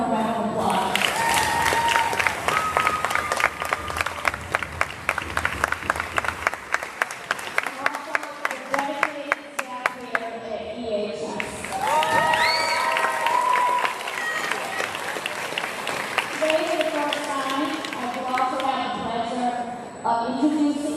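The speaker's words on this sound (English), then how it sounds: "Let's give them a round of applause." Audience at a high school graduation ceremony breaks into sustained applause, a dense wash of clapping that swells, holds and tapers over about twenty seconds, with a speaker's voice talking over parts of it.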